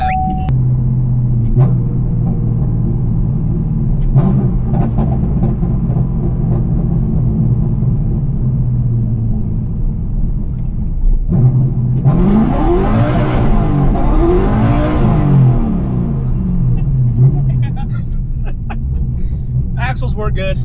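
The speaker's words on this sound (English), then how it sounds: "Sometimes forget how loud this car is." A 2018 Chevrolet Camaro SS 1LE fitted with G-Force axles idles with a loud, deep rumble, then revs up and back down in rising and falling sweeps, close by, with voices faintly under the engine.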